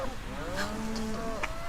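Dairy cows on a farm give a long, drawn-out moo over a constant noisy background, with a second lowing call overlapping near the end.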